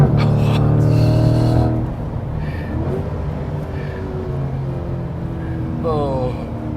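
A Corvette Stingray engine drops a gear on a country road, the note rising in pitch and then settling into a lower, smoother drone, with a brief blip of revs near the end.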